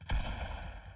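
A single sharp gunshot in the Fortnite Reload Zero Build video game, a punchy crack with a low thump that decays over about a second, moderately quiet with no voices.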